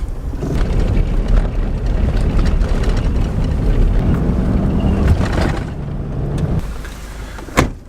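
A car drives along a road in the Flinders Ranges, heard from inside as a steady, loud low rumble of engine and tyre noise with a hiss of wind, followed near the end by a sharp, brief knock or click.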